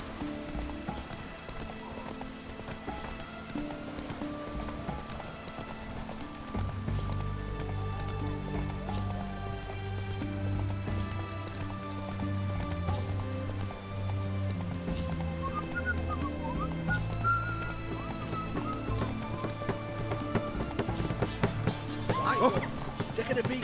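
Roach the horse galloping in The Witcher 3, a steady rhythmic clatter of hooves running under rain and background music, with a voice speaking briefly.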